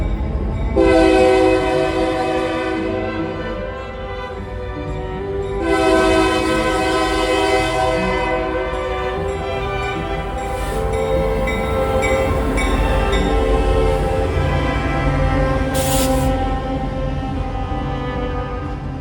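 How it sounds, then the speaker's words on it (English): A Union Pacific welded rail train rolls past close by, its air horn sounding several loud long blasts over the steady rumble and clatter of wheels and rail cars, with occasional squeal. "The last train was a UP welded rail train that I did not know was coming."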